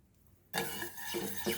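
Sugar and ghee being stirred in a pan, a short burst of scraping and swishing that starts abruptly after a quiet moment and continues close and fairly loud, with a couple of stronger strokes.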